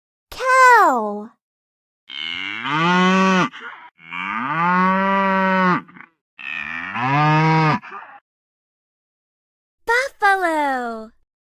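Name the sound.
cow mooing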